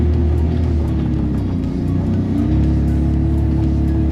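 A Can-Am Defender HD 11 UTV engine drones loudly and steadily as it pushes through deep snow, a continuous close-up rumble with slight rises in load and no speech.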